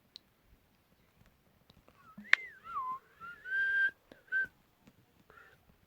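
A wavering whistle slides up and down in a few separate bursts, with faint clicks scattered around it; it sounds like someone imitating a train whistle.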